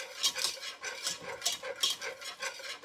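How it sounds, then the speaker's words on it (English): Chicken alfredo being stirred in a pan gives soft rhythmic scraping and swishing strokes, repeating about every half second, close and fairly quiet. "You want to keep stirring that around."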